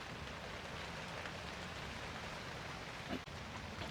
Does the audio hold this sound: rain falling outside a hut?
yes